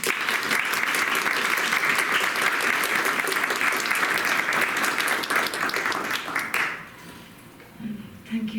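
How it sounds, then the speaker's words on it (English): A Notre Dame audience at a creative writing reading applauds to welcome poet Martina Evans, a full steady round of clapping that fades out near the end, followed by a quiet room. "give a warm round of applause and a wonderful Notre Dame welcome to"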